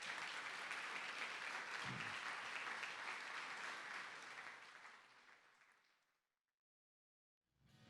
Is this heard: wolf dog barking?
no